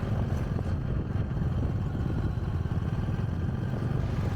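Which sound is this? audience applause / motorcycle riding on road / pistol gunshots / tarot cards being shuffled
motorcycle riding on road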